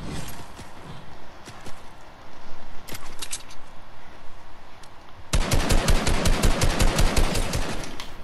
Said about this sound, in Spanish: ¿Dónde disparan a peña, tío?